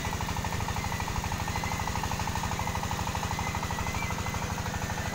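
A water-well drilling rig bores toward a 30-metre target depth near Tuban, giving a loud, steady, fast mechanical pounding with a continuous engine rumble underneath, close and unbroken throughout.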